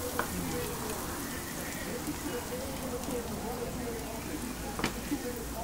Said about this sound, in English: All we're looking for here is just to get the garlic and the shallots just nice and sauteed.